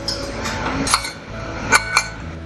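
A lid closing on a cooker of chicken biryani over a low flame, giving a few bright metallic clinks, one alone and then two close together, against a quiet background hum.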